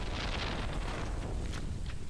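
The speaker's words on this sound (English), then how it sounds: "That was lightnings" Deep rumbling thunder from a lightning strike in the video game Stardew Valley rolls on steadily throughout, loud and dense with no speech.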